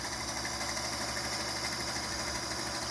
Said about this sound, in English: We love featherweights. They're so clicky.